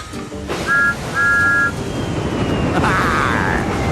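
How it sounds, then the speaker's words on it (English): A two-tone steam locomotive whistle toots twice in quick succession over a steady rumbling engine background, loud and fairly close. "with a toot of his whistle, was on his way."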